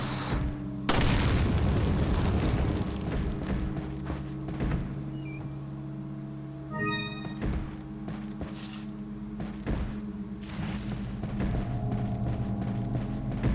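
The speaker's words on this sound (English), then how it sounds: "explosions." Objects breaking apart with booming blasts in Resident Evil 4, a loud burst near the start followed by scattered thuds, creaks and clanks, with a few sharp hits later on.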